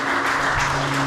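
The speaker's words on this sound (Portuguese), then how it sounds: "Vamos aplaudir bem forte." A church congregation claps loudly and steadily at a worship service, a thick, continuous wash of applause filling the room.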